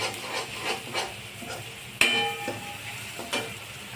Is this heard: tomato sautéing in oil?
yes